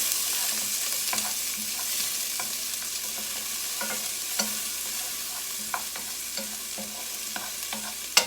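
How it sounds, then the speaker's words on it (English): Half a chopped onion sautés in hot oil in a pot, producing a steady, close hiss of sizzling with faint stirring clicks and a sharper knock at the end, no voices over it. "We're gonna saute half a chopped onion."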